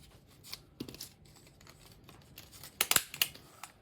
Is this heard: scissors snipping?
yes